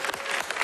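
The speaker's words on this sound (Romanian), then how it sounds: "Aplauze!" A short burst of crowd clapping at a mall, people applauding together in a quick, busy patter that stays fairly soft and distant.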